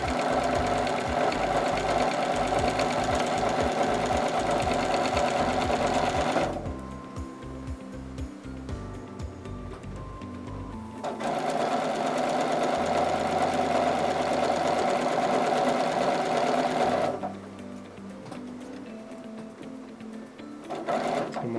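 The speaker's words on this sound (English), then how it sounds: "just sew in a 1/4 inch from the end of the fabric" A sewing machine stitches a straight seam a quarter inch from the edge of the fabric, its rapid motor hum and needle chatter running loud in bursts that pause and restart.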